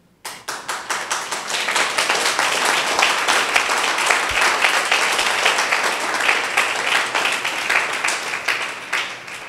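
A congregation at a Telugu church sermon breaks into loud, sustained applause, many hands clapping in a dense, continuous roar that starts abruptly and holds steady for several seconds, close and without speech over it.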